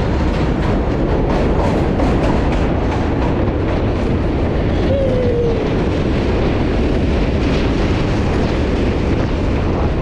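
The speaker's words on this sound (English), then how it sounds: "Uh-oh, the train." A loud, steady rumble of a train passing close by, with continuous roar and faint rhythmic clatter throughout, no voices.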